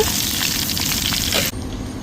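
Fish frying in a pan gives a loud, continuous close sizzle and crackle that cuts off sharply near the end to a quieter hiss.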